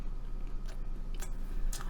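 Close, quiet chewing of walnut cake with red bean filling, a few soft crunchy bites of walnut breaking through, no talking.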